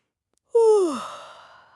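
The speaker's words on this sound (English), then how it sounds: "Oh, that was a wonderful yawn." A single soft, drawn-out yawn with a voiced falling tone that trails into a breathy exhale, close and alone in silence.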